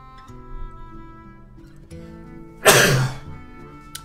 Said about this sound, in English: Oh, the sneeziest sneeze.